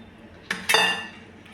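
A metal utensil clinks twice against a dish while ragi flour is mixed into cooked rice, two sharp close knocks followed by a fading ring, with a quiet room behind.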